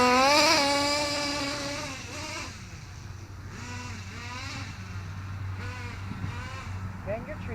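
Small Kyosho USA1 nitro RC truck engine revving hard as it pulls a wheelie, a loud buzzing whine at first that eases into a steadier, quieter drone with voices talking over it.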